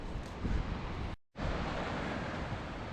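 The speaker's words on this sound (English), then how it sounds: "the waves is coming in super fast and super big, and they're coming at a strange angle today as well" Big waves surge in fast along a wild Scottish coastline, arriving at an odd angle from the northeast. A steady, loud roar of surf and wind runs throughout, broken by one brief dropout of near-silence.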